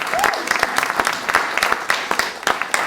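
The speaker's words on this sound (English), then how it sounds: "How about another round of applause for Zara?" An audience at a comedy show claps for comedian Zara in a brief, lively burst of applause with distinct sharp claps over a steady crowd background.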